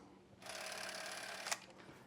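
A used film camera's motor whirs steadily for about a second, ending in a sharp mechanical click, followed by a brief fainter whir, close and alone in a quiet room.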